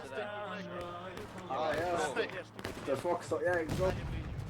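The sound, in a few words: musket gunfire in a Grand Campaign video game battle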